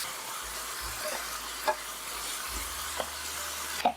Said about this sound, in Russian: Обжариваю фарш на большом огне, чтобы он не пускал сок,